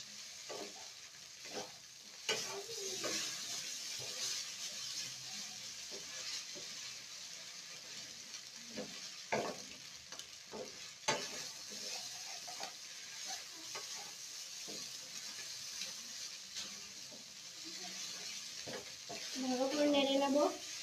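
Maggi noodles frying in a pan while being stirred, a steady low sizzle and hiss with scattered scraping and clinking from stirring, faint and close, and a voice talking over it near the end.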